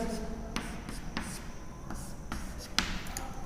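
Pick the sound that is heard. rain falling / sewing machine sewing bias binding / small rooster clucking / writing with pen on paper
writing with pen on paper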